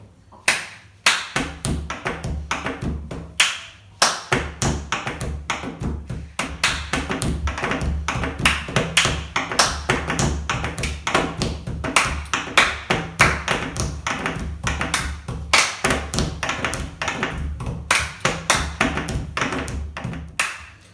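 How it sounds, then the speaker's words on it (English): Hand claps and fingertip taps on a kitchen table top form a steady, repeating percussive rhythm, close and crisp, with sharp accents standing out over continuous light tapping. "We could add 2 claps at the start and we can see how that goes together"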